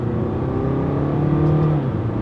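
Close, steady engine note of a 2021 Mercedes-Benz A200d A-Class saloon, a diesel with a fast-shifting gearbox, pulling hard under acceleration in sport mode with manual control. The revs rise and hold, with no talking.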